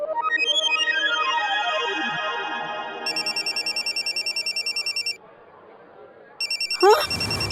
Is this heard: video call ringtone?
yes